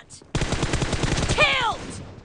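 Rapid gunfire from the battle royale game PUBG comes as a loud, close burst of evenly spaced automatic shots lasting about a second and a half, with a brief whistling tail after it and no talking.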